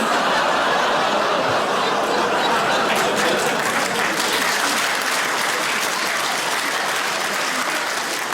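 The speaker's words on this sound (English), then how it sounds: "A round of applause?" A live stand-up comedy crowd in London breaks into sustained, dense applause mixed with scattered laughter and chuckles, steady and close throughout.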